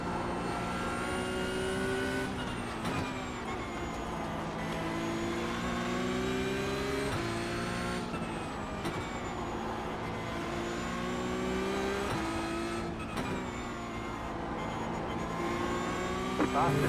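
A Porsche race car engine whines at the Nürburgring in a racing video game, sustained and tonal with rising pitch sweeps through the gears and brief dips at shifts, under occasional talk.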